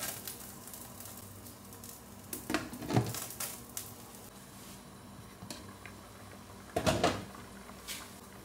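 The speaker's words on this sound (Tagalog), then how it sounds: "Ilalagay natin ng lemongrass para lalong lumabas yung katas ng ating lemongrass. Isasabay natin ang luya." Lemongrass and ginger hit a hot pan, giving short sizzling bursts around the third and seventh seconds over a low background hiss, with a light clatter of utensils in between.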